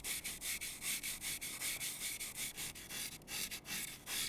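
A piece of aerogel is rubbed right against the microphone, giving a close, dry, scratchy swishing in quick, regular strokes, about a dozen of them with no talking.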